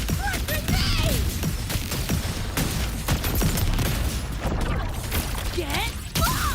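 Repeated explosions and heavy crashes in a video game firefight with grenades being thrown, loud and dense throughout, mixed with gunfire, whooshing effects and speech.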